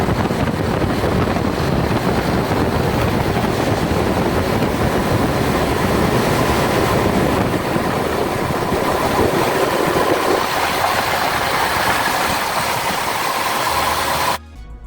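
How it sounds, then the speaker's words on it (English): A coach engine runs at high idle, a loud, steady, throaty drone with wind buffeting the microphone, holding constant before stopping abruptly at the very end. "I'm going to go put it on high idle now."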